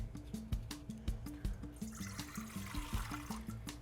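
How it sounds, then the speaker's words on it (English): Water runs and trickles into a bowl over a regular, repeating low tone, with the splashing growing fuller partway through. "So I am going to add my water."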